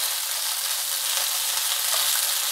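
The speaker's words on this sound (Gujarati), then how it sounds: "ગુંદાને આ રીતે હલાવતા રહીશું" Gunda fruit fries in a pan over a low flame while being stirred, giving a continuous, bright, even sizzle that stays close and loud throughout, with no talk.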